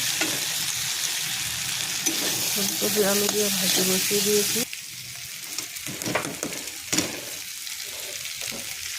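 Cauliflower and potato bhaji fries in oil, with a bright, steady sizzle up close. A few clanks and stirring scrapes come through, and the hiss turns quieter partway through.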